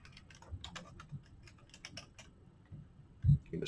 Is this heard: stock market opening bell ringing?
no